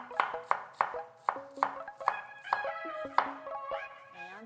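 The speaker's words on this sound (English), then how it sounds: "Now I'm going to slice my onion." A knife slices through an onion on a cutting board for kimchi fried noodles, giving a steady series of sharp, close cuts at a roughly even rhythm, with faint kitchen tones ringing between strokes.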